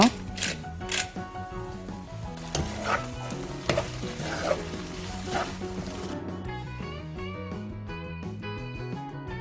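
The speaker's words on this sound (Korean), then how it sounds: "바질 5, 6장 그리고 후추를 넣고 섞어주세요." Boiled pasta being stirred with five or six basil leaves and freshly ground pepper in a pan of nearly dry sauce, a steady close scraping and sizzling with scattered sharp clinks, under music.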